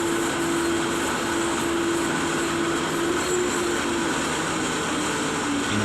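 A freight train in the Train Sim World video game rolls at low speed, a steady rumbling drone with a sustained tonal hum running through it, loud and even throughout with no talk.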